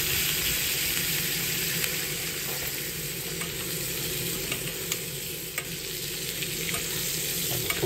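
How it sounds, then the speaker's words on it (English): Steak fries in butter in a pan aboard a narrowboat, giving a dense, continuous sizzle with small crackles. It stays loud and close throughout with no talk. "I'll just cook my steak for a"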